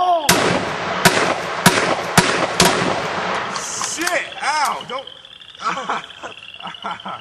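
Sharp gunshot-like bangs crack out in a quick irregular series early on, some loud and near, then give way to raised excited voices shouting over fainter pops.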